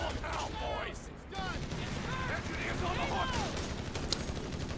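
Machine gun fire and battlefield clatter in Company of Heroes 3, a World War II strategy game, rattle steadily under a dense wash of combat noise while a caster talks over it.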